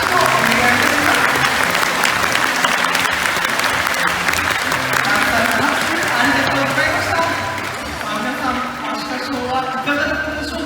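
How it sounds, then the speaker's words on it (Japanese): A crowd applauds at the close of a sea lion show at Toba Aquarium; the dense, loud clapping runs steadily throughout and eases slightly near the end while an announcer speaks over it. "最後にもう一度大きな拍手をお願いいたします。"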